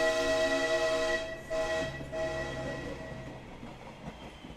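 A train rolls through a station, a loud, close rumble with a sustained tonal horn-like drone that fades and thins out over several seconds, with no voices.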